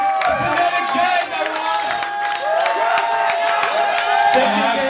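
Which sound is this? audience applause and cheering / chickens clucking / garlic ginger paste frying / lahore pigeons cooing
audience applause and cheering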